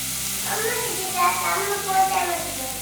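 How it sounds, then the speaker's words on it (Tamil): Ground masala paste sizzles softly in a pan while being sautéed for Chettinad mutton chukka varuval, a gentle continuous frying sound with faint stirring. "நம்ம அரைச்சி வச்ச பேஸ்ட் எல்லாம் சேர்ந்து நல்லா வதக்கியாச்சு"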